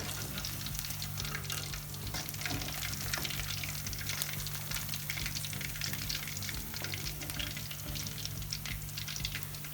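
Fish pieces fry in oil over low heat, giving a steady, even sizzle with soft crackling throughout and no voice over it.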